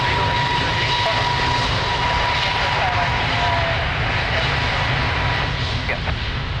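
A jet airliner roars down runway 02 at Lisbon Airport on takeoff, a loud, sustained engine rumble and whine that fills the scene, with faint radio voices underneath.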